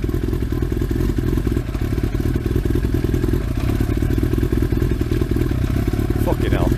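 A motorcycle engine idles loudly through a harsh, rough aftermarket exhaust, a dense, continuous close-up rumble with a faint metallic clatter throughout and a brief higher squeal near the end.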